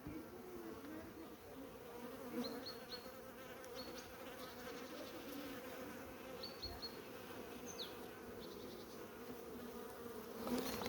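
A soft, continuous drone of many honeybees buzzing close by in a nucleus hive, with occasional higher whines as individual bees fly past.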